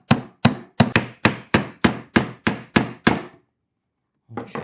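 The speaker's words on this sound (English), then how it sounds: "you're taking your little nails, your Q nails, and you're going to be putting them right down here in the middle of that. And gentle with the hammer." Small nails are tapped with a hammer into a cedar beehive frame: ten sharp, evenly spaced knocks in quick rhythm, close and fairly loud, then a pause and one more tap.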